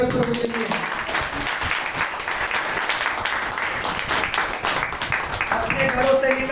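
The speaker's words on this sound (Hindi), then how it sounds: "जोर से ताली बजाएंगे उस प्रभु के लिए।" A congregation at a Sunday prayer meeting claps loudly and continuously, a dense wash of applause that fills the room, with voices mixed in.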